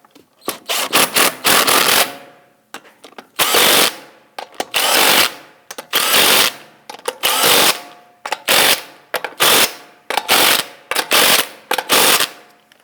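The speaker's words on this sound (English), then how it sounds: "Let's go ahead and torque down our lug studs here to 103 foot-pounds." Lug studs on a 2001-2009 Volvo S60 being torqued down in a star pattern with an impact tool, a dozen or so loud rattling bursts in quick succession separated by short pauses.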